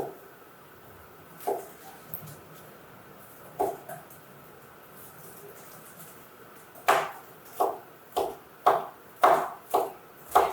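A knife chops garlic on a cutting board: a few sparse, isolated knocks, then a steady run of sharper, evenly spaced chops near the end, close and moderately loud in a quiet kitchen.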